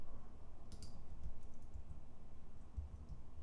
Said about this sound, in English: I did some keyboard command